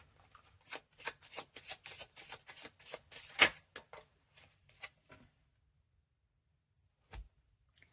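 A deck of cards being shuffled in a quick run of crisp riffling flicks, then a few softer taps and a single card drawn with a short snap, all close and quiet against silence.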